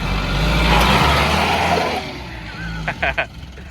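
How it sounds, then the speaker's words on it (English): Mahindra Roxor utility vehicle accelerating on a top speed run, a loud steady engine and road roar that eases after a couple of seconds, followed by a few short bumps and knocks. "Take this thing for a top speed run"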